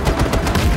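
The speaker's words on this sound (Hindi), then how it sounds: "ग्रेनेड फट गया माथे पे" A grenade blows up during Just Cause 3 combat, giving a loud, dense, rumbling burst mixed with rapid gunfire, with no pause in the noise.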